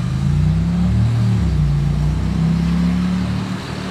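A Ferrari 12Cilindri with a sporty exhaust rolls slowly past, giving a loud, steady low engine rumble that holds throughout and eases slightly at the end, with no talk.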